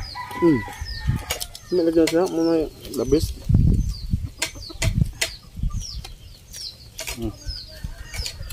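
A chicken clucks in short harmonic bursts with brisk flapping of wings nearby, while a person speaks briefly.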